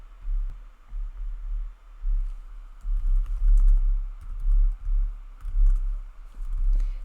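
A computer keyboard is typed on in bursts while product information is entered, soft muffled key taps over a low, throbbing hum, with short pauses between runs and no talk.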